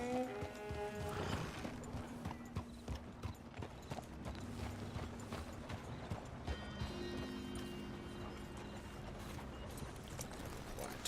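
Horse hooves clip-clop in a steady rhythm throughout in Red Dead Redemption II, with a whinny near the start and game background music underneath.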